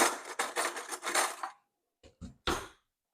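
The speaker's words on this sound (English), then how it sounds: "Give that a little stir." A spoon stirring candied jalapeño peppers in a pot clatters and scrapes against the metal in a busy run of strokes, then falls silent before a few short, separate knocks and scrapes.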